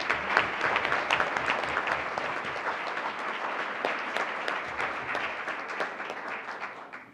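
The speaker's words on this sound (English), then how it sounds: "Let's give another nice round of applause here." Audience at a school board meeting applauding steadily, a dense wash of hand claps that holds for several seconds before tapering off at the end.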